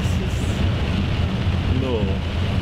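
Heavy rain pours during a storm on St. Vincent while driving, a dense steady wash of drumming water on the car with low road rumble and a brief voice underneath.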